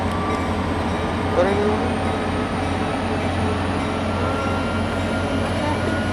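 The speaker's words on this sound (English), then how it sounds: "Here goes Scale Train 256 with 901 leading." Scale Train 256, led by locomotive 901, rumbles past College Park station with a loud, steady rolling roar of rail cars and a brief wheel squeal, while someone talks briefly over it.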